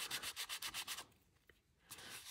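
Rhythmic back-and-forth scuffing of a drink coaster surface being roughed up with an abrasive, about eight quick rubbing strokes, then a pause with a faint tap, and another short scuff near the end.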